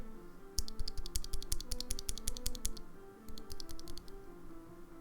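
Rapid soft keystrokes on a mechanical keyboard with Sakura Snow switches, muted clacks in quick irregular bursts with a short pause between runs, close and fairly quiet.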